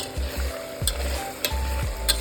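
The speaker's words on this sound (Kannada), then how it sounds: "ಇವಾಗ ಇದು ಸ್ವಲ್ಪ ಫ್ರೈ ಆಗಿದೆ, ನೀವು ನೋಡ್ಬೋದು." A thick masala paste for chicken biryani fries in a pan with a low sizzle, broken by several rhythmic spatula scrapes and stirs, close up, with no voices.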